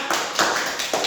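Three quick hand claps during a children's letter-reading lesson, close and crisp, evenly spaced with a short bright burst each.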